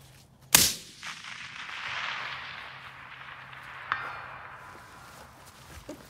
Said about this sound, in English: That's first shot, first attempt at it.